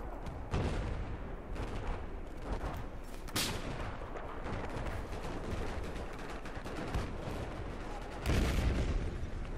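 Dense gunfire and booming explosions fill a military first-person shooter battle, with rapid machine-gun bursts and heavy blasts layered loudly and continuously, a big detonation swelling near the end.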